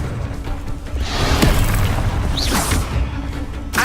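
A Confringo blasting spell explosion in the video game Hogwarts Legacy: a loud boom with a rushing whoosh and crackling debris, followed by a sharp burst near the end.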